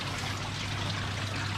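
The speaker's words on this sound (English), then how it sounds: "3-foot Bakki shower, that's running really nicely" Water trickling steadily through a 3-foot Bakki shower filter on a koi pond build, a close, even splashing wash with a low hum beneath, unbroken and without voices.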